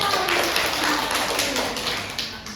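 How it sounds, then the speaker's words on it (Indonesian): Students applaud in a classroom, a steady wash of clapping from many hands that keeps going throughout and fades slightly toward the end. "Ya, bagus. Tepuk tangannya."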